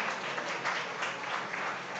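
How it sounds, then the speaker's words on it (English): Dense, continuous applause from a large crowd at a chef cooking competition, even and sustained throughout. "give them both a big round of applause"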